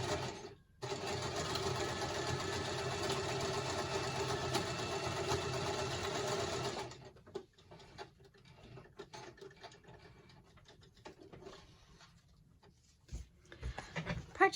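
A sewing machine stitching a paper journaling card onto a tag, a steady whirring run of about six seconds close up, then stopping, followed by faint handling rustles and a couple of soft knocks.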